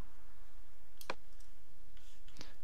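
Two crisp computer mouse clicks in a quiet room, one sharp click and a softer one just over a second later.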